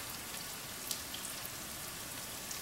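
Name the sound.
onions and spring onions frying in oil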